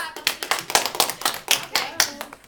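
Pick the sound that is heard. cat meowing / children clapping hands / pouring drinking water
children clapping hands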